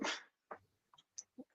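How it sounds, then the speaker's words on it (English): A person lets out a half yawn, half sneeze: one loud close burst followed by a few short, quieter breathy snorts and squeaks, with no talking. "It's like a half yawn, half sneeze, buddy."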